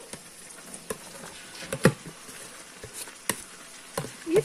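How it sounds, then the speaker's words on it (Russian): Chopped onions frying in vegetable oil in a pan give off a faint, quiet crackle, with sparse sharp pops scattered over a low sizzle. "Лучок немножко у нас уже поджарился"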